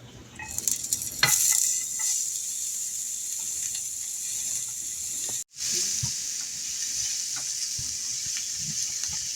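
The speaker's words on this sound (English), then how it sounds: "We are just getting ready to fry up our onions and our garlic." Onions and garlic sizzle steadily in a hot pan, a continuous close bright hiss with small crackles and occasional utensil stirring scrapes, no talking.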